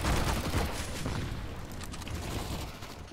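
Heavy sustained gunfire from the video game CS:GO, dense overlapping shots and bursts filling the whole stretch at close range, loud and continuous.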